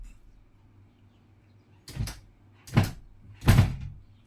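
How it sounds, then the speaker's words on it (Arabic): A house door is worked open in three separate thumping knocks, each short and sharp, spaced under a second apart against a quiet, faintly humming room. "افتحي يا بنتي الباب"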